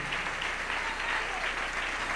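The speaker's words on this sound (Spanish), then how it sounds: "Dele ese aplauso al Señor en esta mañana." A church congregation applauding during a Sunday morning service, dense, continuous clapping from many hands filling the room evenly at moderate loudness, with no breaks.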